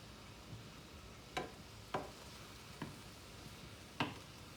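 Mushrooms and asparagus are stirred in a pan over a soft, steady sizzle, with four sharp spoon scrapes spaced irregularly across it. No one speaks.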